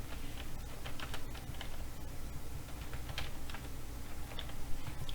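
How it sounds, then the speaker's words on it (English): Steady typing on a computer keyboard, a dense run of light, quick key clicks at close range over a soft background hum, with no voices. "we'll go back to the sticky notes and type in the name of my second favorite dessert"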